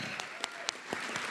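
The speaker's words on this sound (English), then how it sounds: "Let's give her another round of applause, can we?" Brief, faint applause at a celebration event, with a few distinct sharp claps standing out over a steady patter of clapping hands.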